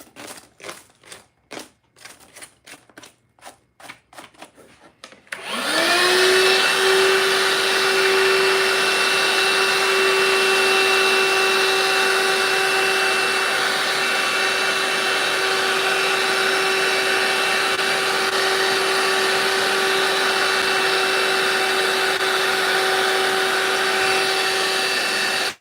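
A vacuum cleaner starts up after a few seconds of faint clicking and then runs loudly and steadily, sucking up debris from finishing work on a red brick wall in a slot car garage.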